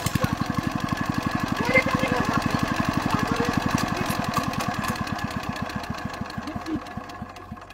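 A motorbike engine started and running roughly, a rapid, loud, close chugging pulse that slows and stumbles unevenly toward the end as it nearly stalls, with a few faint voices behind.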